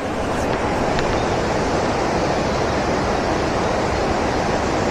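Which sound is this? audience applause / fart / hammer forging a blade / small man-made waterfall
small man-made waterfall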